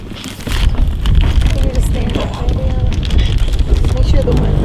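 Strong, steady wind roars and buffets the microphone at sea aboard a boat during a burial at sea, with faint voices mixed into the blustery rumble.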